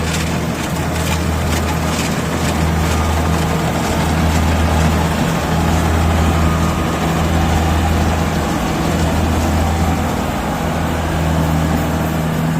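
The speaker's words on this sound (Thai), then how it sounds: "ตอนนี้ก็ดูรถเกี่ยวไปก่อนครับ" Steady, loud low engine drone of a rice combine harvester running in a field at harvest time, continuous and even throughout with no talking.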